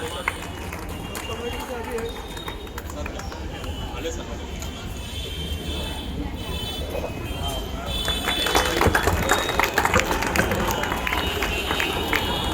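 Audience at a college Independence Day celebration breaking into loud, dense applause that swells toward the end over a steady crowd murmur.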